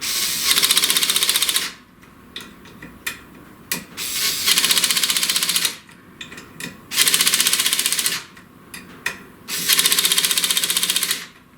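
A power driver tightening screws on a SainSMART Genmitsu PROVerXL 6050 Plus CNC router kit, with repeated close buzzing bursts of one to two seconds separated by short clicks and quiet pauses.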